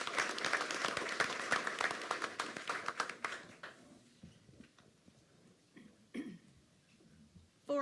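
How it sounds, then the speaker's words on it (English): Audience applause at a parish school board meeting, a dense burst of clapping that thins out and fades after a few seconds, followed by scattered small noises in a quiet room. "Let's give them all another round of applause."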